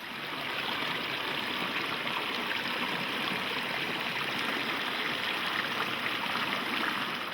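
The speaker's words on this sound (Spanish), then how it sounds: "El agua fluye hacia los ríos filtrada y libre de sedimentos." A forest stream flows in a dense, continuous rushing wash, steady and even throughout with no voices over it.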